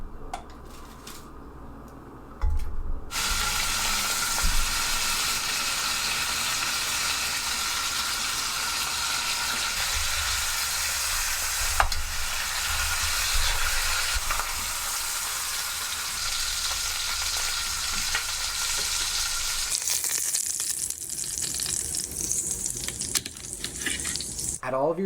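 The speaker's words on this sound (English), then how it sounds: "We want to sear these on all sides in a Dutch oven over high heat" Short ribs searing in olive oil in a Dutch oven over high heat, a loud broad hiss that begins abruptly after a quiet start and carries on steadily with small crackles, no talk.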